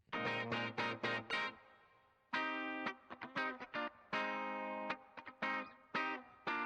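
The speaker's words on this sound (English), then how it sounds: "There's some guitar through this whole track." An isolated electric guitar part from Bruno Mars's "Treasure" plays choppy, distorted funk chords with effects, in short stabs and sustained strums separated by brief gaps, alone and dry.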